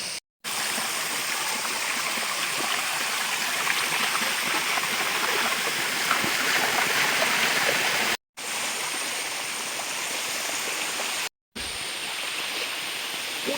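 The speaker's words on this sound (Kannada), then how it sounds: "ಸಣ್ಣ ನದಿ ಸಣ್ಣ ನದಿ ಅಲ್ಲ ತೋಡು ಅಂತ ಹೇಳ್ಬೋದು ತೋಡು ಜಲಪಾತ" A small stream tumbling over a waterfall rushes in a steady, loud, broadband roar during rain, briefly cut off twice and otherwise continuous with no talking.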